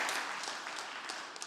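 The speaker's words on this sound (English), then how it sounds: "big round of applause for Kasia Gok" Audience applause for a presenter at a pitch competition finale, a brief, fairly faint patter of clapping from a crowd.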